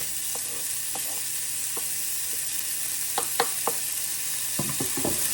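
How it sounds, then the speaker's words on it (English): Onions and garlic frying in hot oil for clam spaghetti, a steady close sizzle with scattered spatula taps and scrapes against the pan. "So now that the oil is hot, we're going to add the onions."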